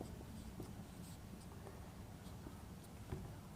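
Pen or pencil writing out linear equations during a Class 10 maths lesson, a steady soft scratching and tapping that runs continuously, close and quiet, with no talking.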